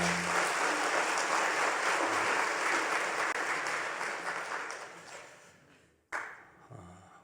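A church congregation at a 112th anniversary service claps loudly and continuously for about five seconds, the applause fading out before a brief closing burst of clapping.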